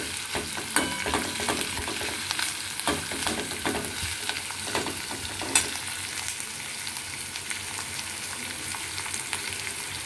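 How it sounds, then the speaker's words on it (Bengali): Onions frying in a pan until reddish, a dense continuous sizzle with frequent stirring scrapes and occasional sharper clinks, heard up close and alone without speech. "একটু ভালো করে, একটু সামান্য লাল লাল করে ভাজতে হবে"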